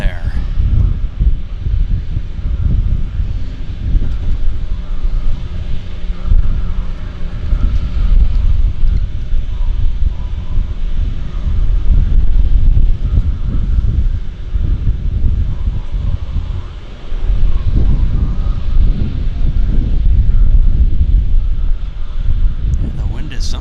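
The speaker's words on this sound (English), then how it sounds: "And the wind is something." Strong wind buffets the microphone at a Vancouver downtown harbour seaplane airport, a continuous loud rumbling roar with gusty swells throughout while someone talks.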